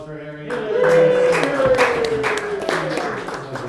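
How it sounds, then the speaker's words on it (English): Audience applause at a distillery gathering, a roomful of people clapping steadily for several seconds with a tonal hum running underneath and some cheering mixed in. "Everybody, round of applause for Harry."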